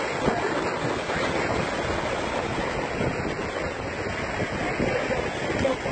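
Ocean surf rolls in at a Miami beach as a steady, loud, continuous wash of breaking waves, with wind rumble buffeting a phone microphone throughout.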